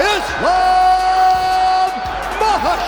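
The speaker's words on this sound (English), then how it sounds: "The crowd erupted in applause as the announcer declared Islam Makhachev the champion." An arena crowd roars and cheers loudly and continuously at UFC 284 as Islam Makhachev is announced champion, a sustained wash of voices with a steady tonal drone running through it.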